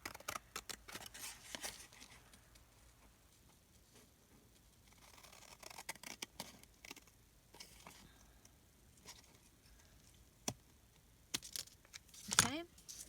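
Scissors trim around the outside edge of a journal made from one 12x12 sheet of paper, giving quiet, intermittent snips and light paper rustles, with a sharper, louder cut near the end.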